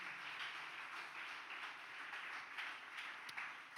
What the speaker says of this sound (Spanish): Dele ese aplauso a Cristo Jesús en esta hora.